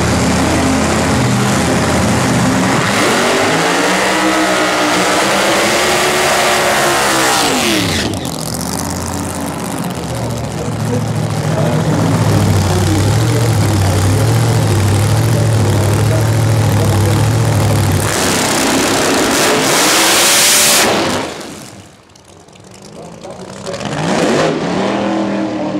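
A Pro Doorslammer drag car launches at Santa Pod Raceway, its engine a loud, sustained roar that rises and shifts in pitch for about twenty seconds before dropping away, with crowd and track noise behind.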